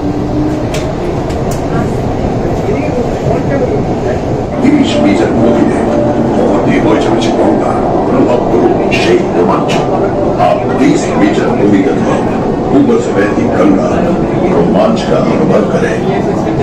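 Kolkata East-West Metro train running through its twin tunnel beneath the Hooghly River, a dense continuous rumble and roar that holds loud and steady throughout, with faint clicks and rattles over it.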